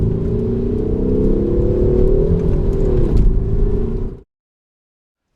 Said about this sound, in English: You've also got an amplified exhaust note, sharper throttle response